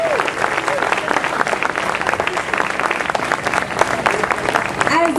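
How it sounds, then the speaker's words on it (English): A crowd at an outdoor festival stage program applauds steadily, dense clapping that carries on for several seconds, with some voices mixed in. "Let's give them a round of applause."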